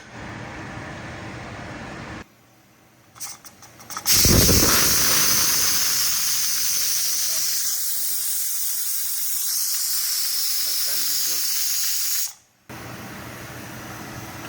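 Pressure cooker holding turkey stew hissing as steam escapes, a loud sustained jet of hiss that starts abruptly after some rattling, holds steady for several seconds, then cuts off sharply.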